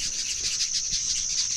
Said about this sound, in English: Even these birds are very sensitive.